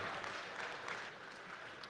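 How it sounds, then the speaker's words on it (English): Steady applause from a conference audience after a panel discussion, a continuous wash of clapping at moderate distance with no voices over it. "Please join me in a round of applause for our esteemed panelists, Oleg, Jack, Kush."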